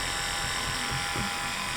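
Hair clippers with the guard removed buzz steadily at close range while trimming hair, a constant electric hum with no talk over it.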